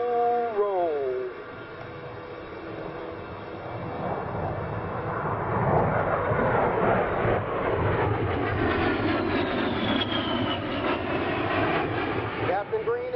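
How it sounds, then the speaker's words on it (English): An A-10 Warthog jet flies a slow roll at the 2009 Tuscaloosa airshow. Its loud turbofan roar swells and sweeps past with a rising, shifting whine, while an announcer talks over the PA. "Now from the left, Captain Green and the slow roll."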